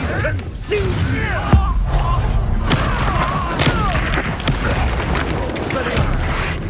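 Spell blasts from Confringo and Bombarda in Hogwarts Legacy, a dense run of booming impacts and crackling bursts layered over game noise, with a voice shouting spell names over the top.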